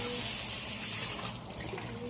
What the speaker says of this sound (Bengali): এবার চিড়েটাকে ভালো করে ধুয়ে নেব